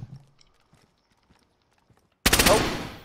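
A single loud gunshot rings out in a video game, a sharp blast with a decaying tail, after a stretch of quiet faint clicks and movement.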